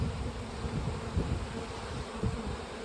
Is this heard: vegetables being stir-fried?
no